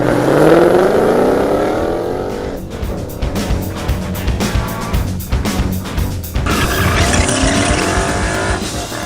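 A 2015–2017 Ford Mustang GT's exhaust roars loudly while driving, rising and falling through revs with sharp, raspy bursts and a few squealing notes, continuous and close for about nine seconds.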